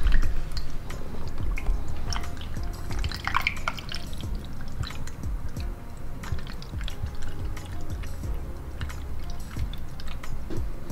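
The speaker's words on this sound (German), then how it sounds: "Hier können wir jetzt mit normalem Tempo gießen, aber auch nicht zu schnell, der soll ja nicht überschwappen hier oben." Coolant pours into a motorcycle radiator at a steady pace, producing close, continuous trickling and gurgling with small drips and splashes throughout.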